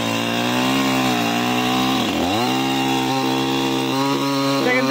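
A chainsaw with a 22-inch bar, its motorcycle-style engine buzzing loud and close, cuts through a branch; the engine pitch dips under load, recovers, and bogs briefly again as the cut proceeds.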